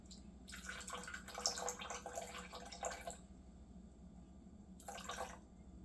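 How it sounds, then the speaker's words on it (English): Filtered water pours in a thin stream into sourdough starter on a kitchen scale, a steady trickle of about three seconds, a brief pause, then a second short splash, close and fairly quiet with no talking. "You'll put in that starter that's left 50 grams of water, and you want to be about as exact as you can."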